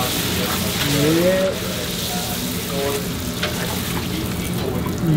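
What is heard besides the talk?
paratha frying on a griddle at a Karachi food stall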